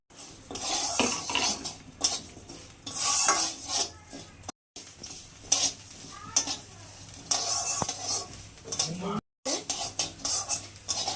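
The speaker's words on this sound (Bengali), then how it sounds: "পটল ভাজার তেলেই একটা শুকনো লঙ্কা, একটু কালো জিরে দেবো, আর তেল দেবো না।" Dried red chili and black cumin stirred in the oil left from frying pointed gourd in a kadai, with repeated metal spatula scrapes and clanks over a faint sizzle, fairly close and steady with brief pauses.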